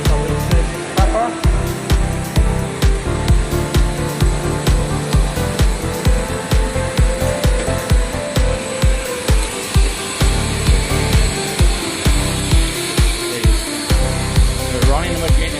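LAN cable making machine running under test, a steady mechanical drone with a regular rapid clatter that stays loud and constant throughout, near and continuous.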